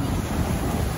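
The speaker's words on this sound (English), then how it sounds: "there's been a few waves" Ocean waves washing over tide pools as a steady, close rush of surf, with wind buffeting the microphone throughout.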